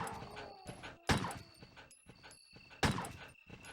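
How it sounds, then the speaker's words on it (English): Dogs in the Resident Evil video game give yelps and whimpers, with sharp loud bursts separated by quieter gaps, alone without talk. "because there are 3 dogs in this area."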